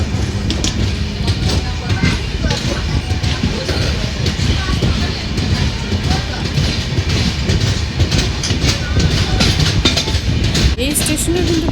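A Kandari Express train on the Howrah to Digha line runs along the tracks, with a loud, steady rumble and clatter of wheels that continues for the whole stretch.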